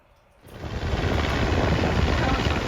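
Light propeller planes towing advertising banners low over a beach, a steady loud droning engine roar that rises quickly and holds continuously, with surf and wind noise blended underneath.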